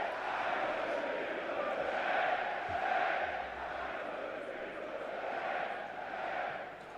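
A large football stadium crowd at 1860 Munich versus Hansa Rostock in Germany's 3rd Division roars and chants in a sustained, swelling wash of voices, with a commentator's voice over it.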